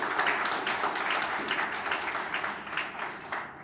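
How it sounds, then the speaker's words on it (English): Dense, steady applause from a conference audience at an agricultural gathering, sustained and fairly even throughout with no voices standing out. "I think that deserves a round of applause."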